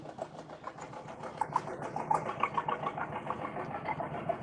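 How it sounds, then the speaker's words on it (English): An antique two-cylinder tractor engine runs steadily at a farm-class tractor pulling event, a continuous rumbling drone with an uneven chugging pulse that builds slightly midway. "I hear the antiques. I hear a 2-cylinder."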